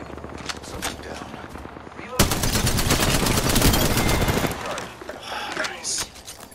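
Rapid automatic gunfire in Apex Legends, a dense burst of fast repeated shots for a couple of seconds, surrounded by scattered single shots and game effects with voices talking.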